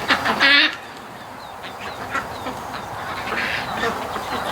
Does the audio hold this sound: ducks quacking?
yes